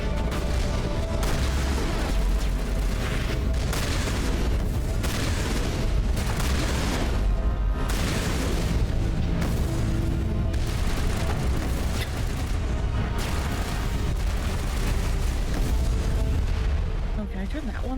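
Turrets firing and explosions in the Mass Effect 1 video game, a continuous barrage of booms and bursts with heavy low rumble, loud and dense, with a voice speaking over it at times.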